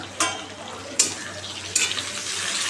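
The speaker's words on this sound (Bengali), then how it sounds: "আমি আলুটা ভেজে নিই" Potatoes frying in a home kitchen pan: a continuous soft sizzle broken by three loud, splashy hissing bursts as the pieces are stirred, heard close up.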